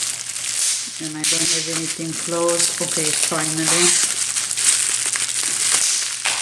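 Plastic bubble packaging around glass beauty products being opened, giving close crinkling and crunching that runs throughout under a woman's speech.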